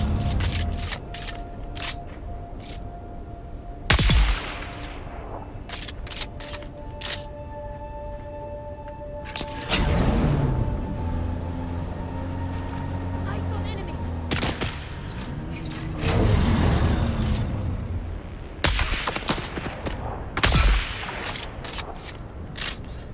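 Enemy gunfire in Dune Awakening crackles in several sharp volleys of shots spaced across the stretch, loud and close, with quieter ambient hum between bursts.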